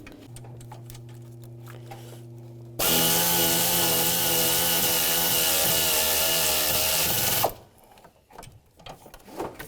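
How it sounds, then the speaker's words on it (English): Alternator mounting nuts are tightened down with a ratchet during engine-bay work; a single loud, continuous mechanical whirring run of about five seconds sits between quieter clattering handling noises, with no talk. "Now we just got to put the nuts on and tighten it down."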